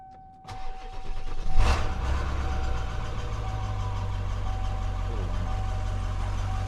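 An OBS Ford truck carrying a camper cranks briefly and fires up, then settles into a steady, even idle that continues to the end, close and fairly loud.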